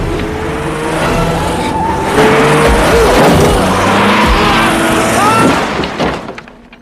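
A car speeds off in a dramatic film scene, engine roaring loud and close with tire squeals and skidding, fading away at the end over a musical score.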